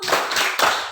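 Children in a classroom clap along in a smiling clap game, a couple of quick, bright bursts of group hand clapping, close and fairly loud.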